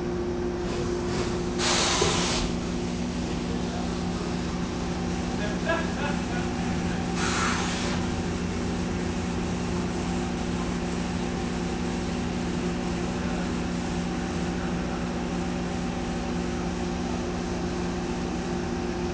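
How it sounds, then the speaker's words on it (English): A CNC machine hums steadily with constant tonal whine while changing tools and switching to its other spindle, with two short bursts of hiss or air blast partway through. "It's going to change tools, and then it's going to use the other spindle here in just a moment."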